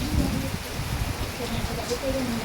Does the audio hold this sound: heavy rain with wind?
yes